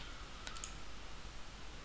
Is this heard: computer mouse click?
yes